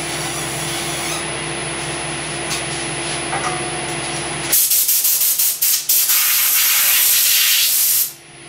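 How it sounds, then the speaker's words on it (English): In a woodturning workshop, a compressed-air airline blows dust out of a turned wooden piece. A steady background hum gives way to loud, close bursts of rushing air that stop abruptly near the end. "Blow it out with the airline."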